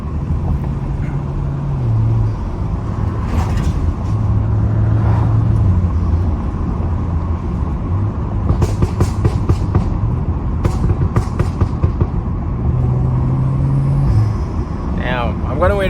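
A loud BMW F30 335i Stage 2+ drives through a neighbourhood, its engine note rumbling low from the cabin and rising in brief revs, with crackles and pops toward the middle and someone talking over it.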